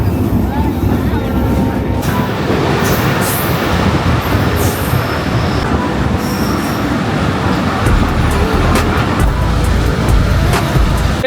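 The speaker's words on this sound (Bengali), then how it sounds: "ট্রেন থামে গেছে" A train slows to a halt with a loud, continuous rumble of wheels on rails and high metallic squeals, while people talk nearby over the din.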